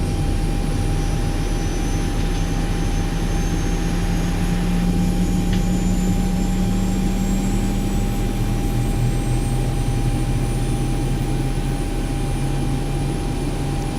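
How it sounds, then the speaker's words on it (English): A jet airliner engine runs steadily at London Heathrow on a rainy day, a continuous loud roar with a constant high whine, heard alone without talk. "Second engine is running on"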